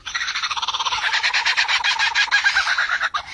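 Australian lyrebird mimicking other birds' calls, delivering a rapid, loud, rhythmic run of repeated chirping notes close by, continuous with no voices.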